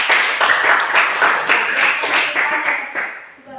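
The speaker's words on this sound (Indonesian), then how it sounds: "Beri tepuk tangan dulu." A group claps for a presenting team in an Indonesian class gathering that opened with prayer: loud, close, brisk applause with rapid overlapping hand claps that fades slightly at the end.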